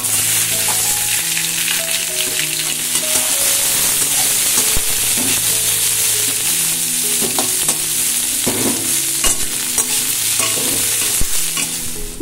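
Rice is stir-fried in a pan at home, giving a loud continuous sizzle with repeated scraping strokes under steady background tones.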